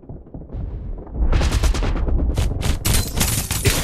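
Rapid overlapping gunfire from a Farlight 84 team deathmatch on Android, sparse shots at first, then swelling into a loud, dense exchange of bursts and cracks that continues without a break.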